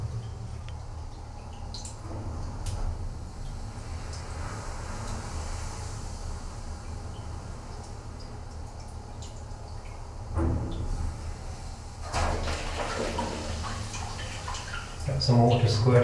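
Storm waves striking the battened-down entrance door of Wolf Rock lighthouse tower, heard from inside as a constant low roar with occasional heavier thuds and surging splashes toward the end.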